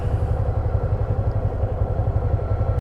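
A motorcycle engine rumbles steadily close by for almost three seconds, a continuous mid-low throb with slight clatter, cutting off abruptly at the end.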